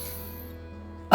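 One loud, abrupt cough breaks in at the end after a quiet stretch, demonstrated during an effective coughing technique lesson.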